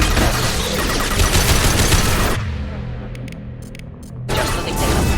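Heavy gunfire from a Mass Effect 2 firefight, a dense loud roar of shots that thins to a short lull with a few sharp cracks before the barrage surges back.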